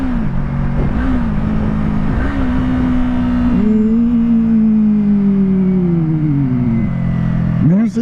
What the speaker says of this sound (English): My downshifts are going so much smoother.